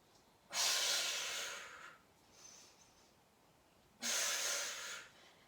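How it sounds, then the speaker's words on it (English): Deep breaths during a supine Pilates core exercise on a mat, two long airy exhalations a few seconds apart with a faint breath between, close and soft, no talking. "Let's take a couple more breaths."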